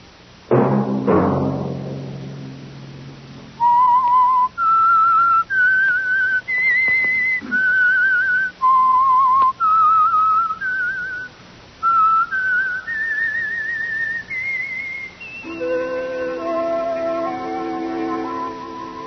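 A lone whistler carries the signature theme of The Whistler mystery radio program, a series of clear, sustained whistled notes rising and falling in short phrases with brief gaps, close and prominent with no talk.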